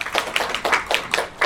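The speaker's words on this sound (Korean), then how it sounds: "박수 부탁드리겠습니다." A small audience at a Gyeonggi policy forum on out-of-school youth claps for a panel guest, with distinct, fairly close hand claps in a quick, uneven rhythm, briefly and without talk.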